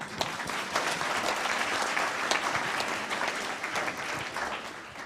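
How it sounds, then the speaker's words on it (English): Sustained applause from the audience at a moot court competition opening ceremony, even, continuous clapping from many hands, fairly distant and moderate in level. "I'll request all of you to give a round of applause for yourself"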